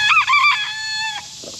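A homestead rooster crows once, loud and close, a short rising-and-falling call that trails off with a faint cluck at the end.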